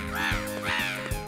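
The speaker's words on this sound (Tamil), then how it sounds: "ஏன் இந்த காக்காங்க எப்போது இப்படி கத்திக்கிட்டு இருக்கு" Cartoon crows cawing in an animated series, three harsh drawn-out caws in quick succession, close and fairly loud, with no talk over them.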